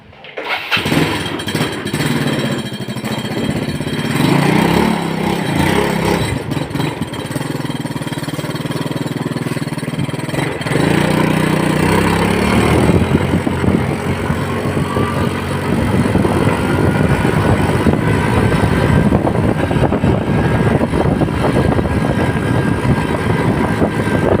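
A Yamaha Fino scooter with its original engine runs continuously during a test ride after a carburetor swap, a loud, steady motor drone that rises in pitch as it accelerates, with no talk over it.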